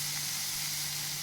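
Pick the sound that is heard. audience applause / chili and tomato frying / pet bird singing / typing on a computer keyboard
chili and tomato frying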